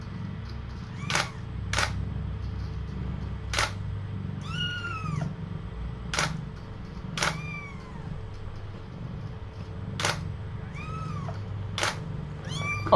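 Tiny kitten meowing repeatedly in short, high, insistent cries spaced a second or two apart, close by, with faint mechanical clicks and a low background hum.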